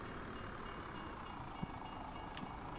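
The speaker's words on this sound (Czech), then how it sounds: "Ten vlak je nějak slušně najednou" Train in Farming Simulator 17 rolls past as a faint, steady rumbling hiss with a couple of light clicks, quiet and distant throughout.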